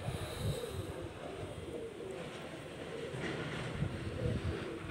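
White pigeons coo softly among grain, low murmuring calls mixed into a busy, steady background of ambient noise.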